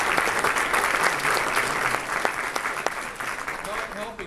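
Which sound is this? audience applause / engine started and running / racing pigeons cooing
audience applause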